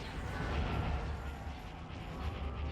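Cannons firing during a space battle in Star Wars: Empire at War with the Awakening of the Rebellion mod, a dense continuous low rumble of booming artillery at steady loudness, with no voices over it.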